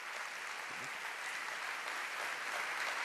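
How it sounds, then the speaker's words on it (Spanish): An audience claps together in a room, a soft, even patter of applause that holds steady throughout without rising or fading. "Bueno, aplaudan."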